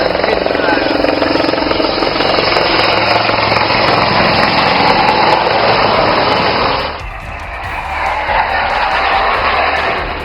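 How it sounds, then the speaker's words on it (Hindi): Roaring, sustained jet engine noise of Rafale and Sukhoi fighter aircraft on an airstrip near the Chinese border in northeast India, loud and continuous, dipping briefly before swelling again. "जब राफेल और सुखोई जैसे विमान टेक ऑफ और लैंडिंग का पराक्रम दिखा रहे थे"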